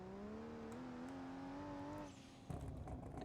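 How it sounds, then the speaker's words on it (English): Turbocharged Toyota Supra A90 engine in the BeamNG Drive game holds a steady droning tone that climbs slightly, then drops away into rougher, choppier noise. "It definitely sounds like it's turboed."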